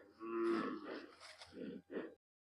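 A Mandeshi Khillar bull at Atpadi gives a close, deep, drawn-out low, then two shorter groaning bellows, and falls silent at the end.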